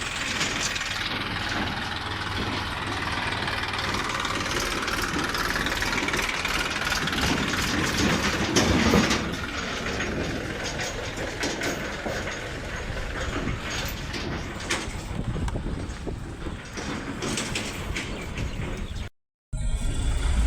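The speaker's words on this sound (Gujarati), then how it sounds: "ટ્રેક્ટર લઈને જાય છે" A rumbling tractor engine runs steadily with a mechanical rattle, loud and continuous, with no talking, then briefly cuts out near the end.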